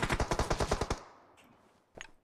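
Rapid automatic gunfire from the PUBG video game on the Miramar map: a fast, evenly spaced burst of loud shots for about a second, then quiet, then a short second burst.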